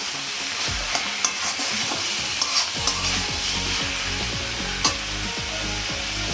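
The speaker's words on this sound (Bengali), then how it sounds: "এবার আমি ঢাকনা তুলে নেড়ে চেড়ে" A spatula stirs chal kumro ghonto, a Bengali ash gourd dish, in a sizzling pan: a steady frying hiss with repeated scraping strokes and a few sharp clinks against the metal.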